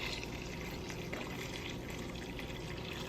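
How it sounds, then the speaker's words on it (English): Strained chicken broth poured from a vessel back into a cooking pot, a steady continuous splash and gurgle of liquid with no breaks, close and moderately loud throughout. "I'm going to go ahead and pour my chicken broth back into the pot."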